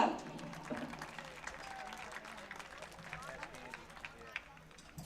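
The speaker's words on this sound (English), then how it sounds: "Please give a round of applause for Blake Cook." Crowd at a high school track meet breaks into a round of applause, dense clapping and cheering that fades slightly over several seconds, with voices mixed in.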